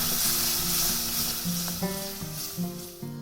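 Masala paste for street-style masala puri sizzles steadily in a hot pan, close and continuous, with occasional stirring sounds over the frying.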